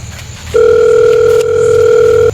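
A steady telephone dial tone hums loud and close after a brief pause, holding unbroken for about two seconds before cutting off as a call is placed.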